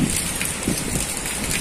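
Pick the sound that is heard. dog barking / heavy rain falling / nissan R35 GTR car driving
heavy rain falling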